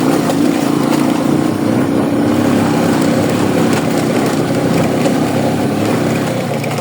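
A small motorbike engine labours steadily at close range after pulling out of water on a village ride, a continuous loud drone with no pauses and no talk.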